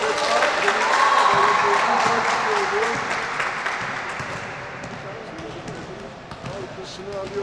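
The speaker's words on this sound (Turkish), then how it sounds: "alkışını alıyor Deniz" Spectators applaud after a made basket at a basketball game between Doğanay Gıda and Realteks. A sustained wash of clapping and crowd noise runs beneath continuous commentary, with ball bounces dotted through.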